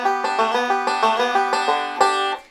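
A five-string banjo plays a Cripple Creek lick that includes a small bluesy string bend from a slide. The plucked notes ring bright and close in an even roll for about two and a half seconds, with no talking.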